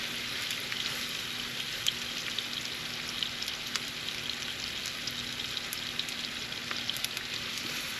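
Steaks searing in a hot pan give a steady, close, crackling sizzle with scattered pops, unbroken and alone throughout.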